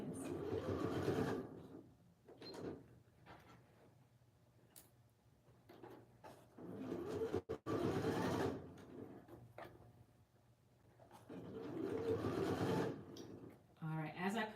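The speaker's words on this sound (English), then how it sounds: "when I'm sewing on a computerized sewing machine" A computerized sewing machine runs in several separate bursts while stitching a denim corset, its whirring motor rising and stopping between pauses, with a voice talking in the quiet gaps.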